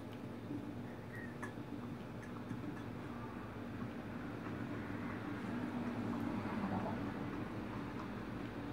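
Steady, faint rumble of a train in the video game Condemned: Criminal Origins, a continuous low mechanical drone with light clatter, no clear voices.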